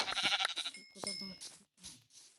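Sheep bleats in the video game Minecraft, a few short bleats spread across about two seconds, mixed with some other brief sounds.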